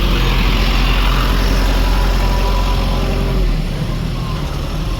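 A Toyota Probox car engine runs steadily nearby at a low rumble on a rural trip to a cattle farm, a constant drone with no talking.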